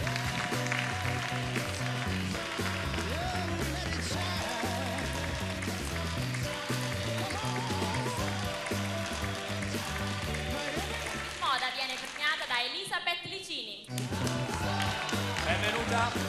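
A large theatre audience at Teatro Carcano applauds a beauty pageant crowning steadily and loudly over continuing music, with the clapping swelling into a dense wash near the end.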